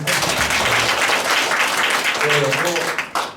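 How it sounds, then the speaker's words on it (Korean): Audience applause at a talk on community shared refrigerators, a dense steady clapping that holds loud for about three seconds, with a voice briefly heard over it before it cuts off. "박수 한번 쳐주시죠"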